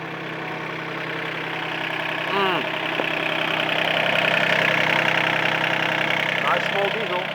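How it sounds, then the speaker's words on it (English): A small diesel engine on a truck-mounted King Lifter forklift idles steadily with a low, even mechanical drone, close and continuous, with a few faint background noises on top. "nice small diesel."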